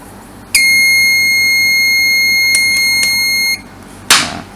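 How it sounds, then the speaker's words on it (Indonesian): A buzzer on an Arduino multifunction shield, sounding as relay 2 switches on under high pressure, holds one loud, steady high-pitched tone for about three seconds. A click comes at the start, then a sharp clatter after it stops. "relay 2 aktif dan buzzernya bunyi"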